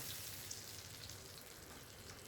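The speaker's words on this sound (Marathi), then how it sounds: "आपण अलगद एका मोठ्या चिमट्याच्या साह्याने ना हा मासा असा परतून घेऊयात आपण" Stuffed pomfret fish sizzles and fries steadily in a pan, a continuous close crackling hiss while it is turned with tongs, with no talking.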